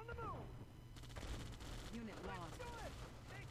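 Sniper rifles firing in Red Alert 2 during an infantry-heavy battle, a steady stream of crackling shots and small-arms bursts layered with unit voice chirps, moderately loud throughout.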